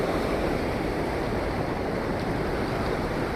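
Fast river water rushing at the Harkul village dam, a dense, steady roar of flowing water filling the foreground with a breathy wind-like hiss and no pauses.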